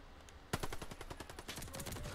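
An upgraded gun in a video game fires in a rapid burst of heavy-recoil shots, a sharp opening blast followed by a steady stream of punchy reports filling the scene.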